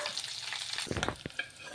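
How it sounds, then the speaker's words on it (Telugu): Cumin, mustard seeds and curry leaves tempered in hot oil for a chutney, a close crackling sizzle with several sharp pops and spits bursting through the bright frying hiss. "అలాగే కొంచెం కరివేపాకు వేసేసుకొని పోపు అయితే పెట్టేసుకోవాలి"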